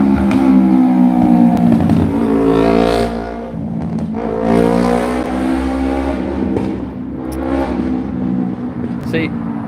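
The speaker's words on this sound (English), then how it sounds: "Why are motorbikes allowed to be so obnoxiously loud, but cars are always being silenced?" A loud motorbike roars past close by, its engine note building, peaking and fading in long swells, with someone talking over the noise.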